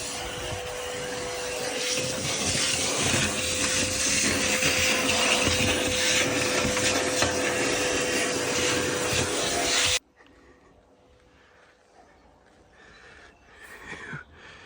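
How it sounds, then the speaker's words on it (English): A Hoover vacuum cleaner runs with a loud, steady whine for about ten seconds and then cuts off abruptly. Only faint background noise and a few soft knocks follow. "In my natural habitat with a hoover."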